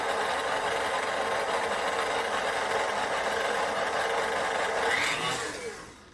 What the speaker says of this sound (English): the instructions said to let it mix for about 6 minutes until it all gathers together, pulls off the side of the pan